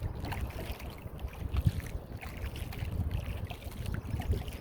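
A small boat paddled through lily pads on Dewey's Mill Pond gives soft, steady watery swishes and low rumbling wind buffeting against the microphone, with no voices.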